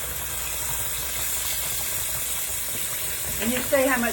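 Pork chops frying in grease deep enough to partly submerge them, giving a steady close sizzle and hiss throughout, with a brief stir or clatter near the end.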